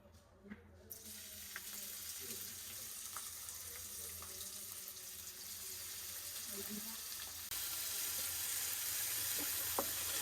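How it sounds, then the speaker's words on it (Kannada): Onions sizzle in hot oil in a pan, a steady, fairly quiet frying hiss that swells slightly partway through, with occasional small clicks and faint background voices. "ಇವಾಗ ಈರುಳ್ಳಿ ಹಾಕ್ತಾ ಇದ್ದೀವಿ"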